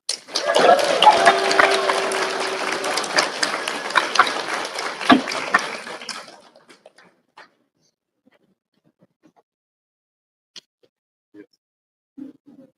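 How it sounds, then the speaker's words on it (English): Applause at a Twelfth Night evening royal court: a full round of dense clapping from the assembled crowd for about six seconds, then dying away to a few scattered claps and near silence. "For those who have dressed their royal majesties so beautifully, a round of applause"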